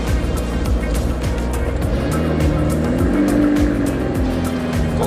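A McLaren 750S Spider sports car pulls away, its engine loud and close, revving through rising tones over a steady rumble, with no talking.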